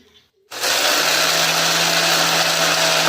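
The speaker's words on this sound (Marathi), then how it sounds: "भाजलेले शेंगदाणे मी आता हे दळून घेणार आहे त्याचबरोबर हे लसूणसुद्धा त्यामध्ये टाकून दळणार आहे" A mixer grinder whirs up to full speed after a short pause and keeps grinding roasted peanuts with garlic, a loud, steady motor whine with a gritty rattle that holds unbroken to the end.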